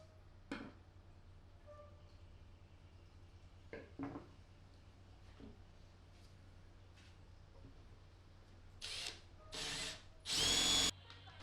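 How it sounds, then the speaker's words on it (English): A power drill bores holes in a board through a 3D-printed dog-hole template, with short quiet bursts early and then three loud, sustained whirs close by near the end. "continue drilling each new set of holes in the same careful way"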